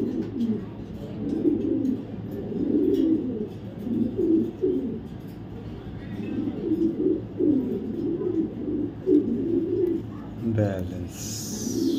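Afshan grizzle pigeons coo repeatedly in low, throaty rolling phrases, close by, with a few brief sounds near the end.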